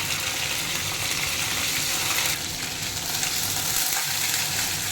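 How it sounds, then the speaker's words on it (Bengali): Ginger paste and slit green chillies sizzle and fry in a pan of hot oil, a steady close crackling hiss with no one talking over it. "আদাটা ভাজা ভাজা হয়ে গেল"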